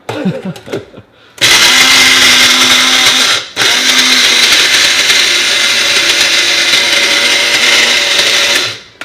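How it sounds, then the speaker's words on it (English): A Cookwell blender grinds a dry mix with a loud, steady motor whir and churning rattle, running in two long bursts separated by a brief pause near the start. "Sometimes when you're grinding up dry mix, you got to give it a bit of encouragement because it just doesn't get churned around properly"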